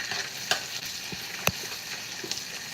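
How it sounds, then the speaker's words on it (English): Tomato paste fries in a pan on a stove while being stirred for Liberian-style red kidney beans, a steady close sizzle with occasional scraping clicks and pops. "So I'll mix it because I want it to fry. I want the tomato paste to fry and kind of like separate"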